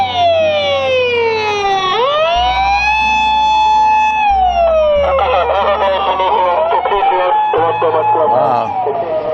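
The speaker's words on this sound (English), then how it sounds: "Oh, it's a Japanese ambulance." A loud, close Japanese ambulance siren wails, rising and falling in long sweeping tones, then shifts to a harsher pulsing pattern over a low engine rumble.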